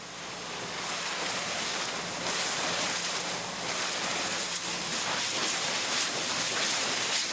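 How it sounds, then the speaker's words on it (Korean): High-pressure seawater sprayer blasting mussel growth off fish farm nets at a mackerel farm, a loud steady broadband hiss like rushing surf that runs unbroken for the whole stretch. "그물 청소는 바닷물을 이용한 고압 분사기로 이루어진다."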